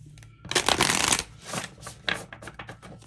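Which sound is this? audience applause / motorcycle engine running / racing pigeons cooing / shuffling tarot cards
shuffling tarot cards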